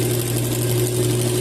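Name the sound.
sewing machine motor running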